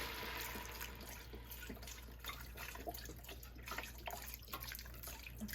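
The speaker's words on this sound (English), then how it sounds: "now we are going to cover this with some broth" Broth pours into a pot of broccoli for dairy-free soup, a quiet steady trickling and splashing liquid sound heard close with no talk.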